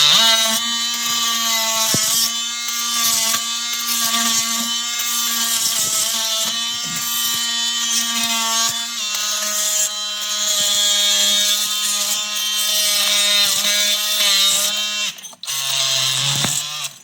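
A three-speed cutoff tool grinds an epoxy-coated concrete floor at its higher speed, a loud continuous whining drone with steady harmonic tones, briefly dipping in pitch near the end before resuming.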